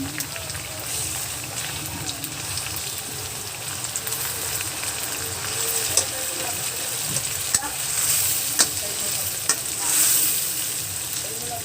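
Shrimp paste (alamang) sautéing in a pan, continuous loud sizzle and frying hiss with occasional stirring scrapes and clinks, while a person talks over it.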